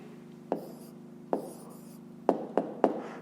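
Pen strokes on paper while writing down the answer to a fifth-grade math problem, several short scratchy taps and strokes, one early, one near the middle, then three quick ones close together, near and fairly quiet.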